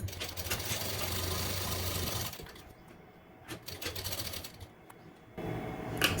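A sewing machine stitches light fabric for a princess cut blouse, a rapid mechanical chatter that runs steadily, pauses into softer intermittent taps and stops, then starts again, close and unaccompanied by talk.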